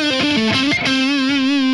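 Zakk Wylde signature Gibson Les Paul on the neck pickup through a distorted amp, a short sustained lead line of a few held, slightly vibrato notes, loud and alone.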